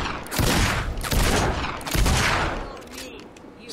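Six-shooter gunfire in the video game Fable 2, three loud close blasts about a second apart, each trailing off into a short decay, with no talking.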